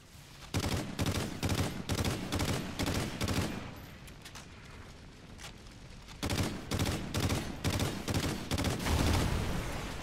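Repeated automatic gunfire bursts ring out at a gas station in the video game Call of Duty Ghosts, loud sustained volleys broken by a short lull before firing resumes.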